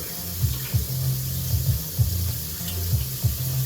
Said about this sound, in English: So you drain it and you run cold water over it.